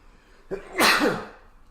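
A single loud, close sneeze with a quick inhale leading into a sharp burst that trails off.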